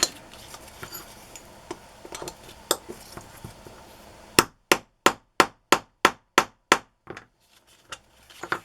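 Light taps at first, then a run of about eight sharp, evenly spaced hammer strikes, loud and close, followed by a couple of softer taps.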